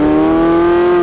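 Porsche 918 Spyder's naturally aspirated V8 screams at high revs toward a 9,000 rpm limit, a loud, steady, close engine howl with strong harmonics that holds for about a second with no talk.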